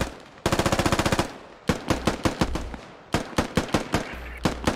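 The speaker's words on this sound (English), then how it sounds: "I think they've been ordered to blind fire on this infantry." Infantry gunfire in the video game SquadOps: a rapid automatic burst of about a dozen shots, then scattered single and paired rifle cracks, loud and close, with no voices.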